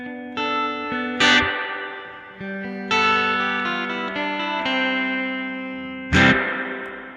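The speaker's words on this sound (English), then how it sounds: "I go to shut off the chorus, turn down the echo, as they call it, turn up the reverb." An electric guitar runs through an effects unit with the chorus off, the echo turned down and the reverb turned up. Loud sustained chords ring out and are struck again several times, each one washing into a long, spacious hallway-like tail.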